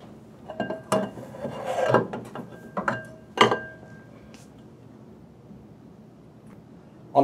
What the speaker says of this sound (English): I'm going to remove the blower assembly as one